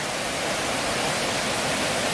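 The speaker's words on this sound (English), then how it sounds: "So this is Cumberland Creek." Steady, dense rushing water fills the whole clip, a continuous broad hiss of Cumberland Creek in Skagit County, Washington, flowing close by after heavy rain, with no pauses.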